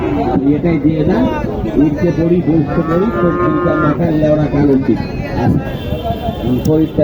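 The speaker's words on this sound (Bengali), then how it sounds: "কোয়ালিটিফুল গরুগুলো নান্টু ভাই কিনে" Cattle, including Sahiwal and local deshi bulls, moo loudly over a busy crowd talking at a cattle market in Mathajihat, Naogaon, with several drawn-out calls rising above the chatter.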